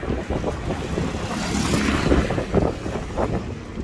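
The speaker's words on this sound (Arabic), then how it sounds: "هناك رياح عاتية هنا" Strong coastal wind at sunset in Larache, Morocco, roaring steadily across the microphone with broadband buffeting and gusts, close and loud throughout, with faint traffic or engine rumble underneath.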